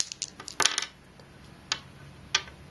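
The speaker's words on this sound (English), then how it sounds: "So dispatching is rolling the dice." Dice clatter and bounce on a tabletop during a round of the Classy Couriers board game: a quick rattling roll, then a few sharp, light clicks as the dice settle, close and fairly quiet.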